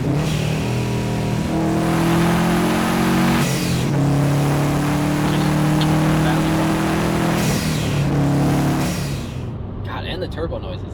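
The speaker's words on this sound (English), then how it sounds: "Don't pass up the turbo noises." Subaru STI engine revving hard with turbo whoosh and flutter, loud and close, rising and falling in three long pulls with brief drops between, fading slightly at the end.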